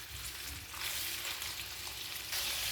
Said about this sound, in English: Alright, so we'll give our meat a bit of a fry. We're just using some vegetable oil here.